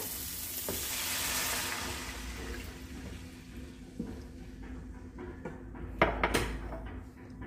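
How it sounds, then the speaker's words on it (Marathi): Water is poured into a pan of vegetables briefly sautéed with turmeric for masala oats, setting off a loud sizzling hiss that fades over a few seconds, with a few metal clinks of utensils afterward. "पाणी टाकून घेऊया"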